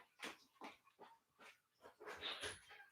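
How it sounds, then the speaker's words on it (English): An indoor dog barks and whimpers in a rapid run of muffled, fairly distant yelps, five or six short bursts followed by a longer jumbled cluster, with no talking over it. "The dog's barking crazy."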